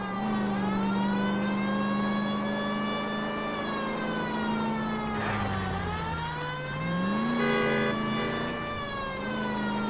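Car driving in the game L.A. Noire, a steady engine drone with smooth pitch shifts as it turns and accelerates, under a wailing harmonic tone, continuous and fairly loud with no talk.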